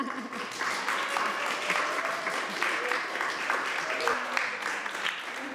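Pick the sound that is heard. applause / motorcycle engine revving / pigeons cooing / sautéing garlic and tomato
applause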